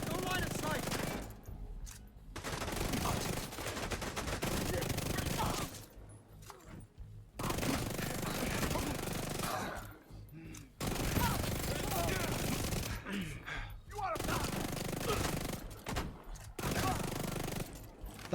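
Gunfire in The Division 2 comes in repeated dense bursts of automatic fire across a long stretch, broken by short quiet gaps, loud and close with a busy game mix underneath.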